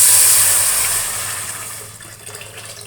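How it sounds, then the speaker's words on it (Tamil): Water pours steadily into a cooking pot while making usili, a loud broadband rush at the start that gradually eases and thins over a few seconds, with no talking. "இப்போ தண்ணி ஊற்றலாம்"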